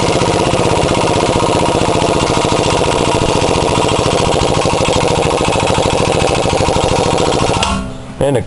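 Air impact gun running continuously and loud while drawing a new wheel stud into the hub of a Buick Park Avenue, with a steady rattling hammer and an abrupt stop near the end.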